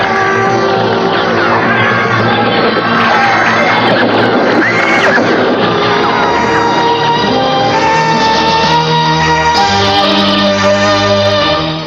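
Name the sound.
horse neighing and galloping in radio drama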